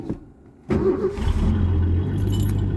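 A 1981 Ford Mustang, snow-covered and not plugged in, cold-starts after a brief quiet moment: the engine catches abruptly and settles into a steady, close, rumbling idle.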